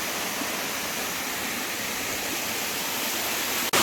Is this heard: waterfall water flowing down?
yes